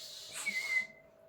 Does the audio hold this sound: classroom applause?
no